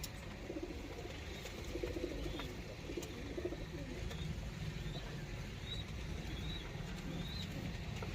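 Pigeons coo softly near a nest holding two eggs, low murmuring calls repeating in short bursts against a quiet background, with a few faint higher chirps scattered across the scene.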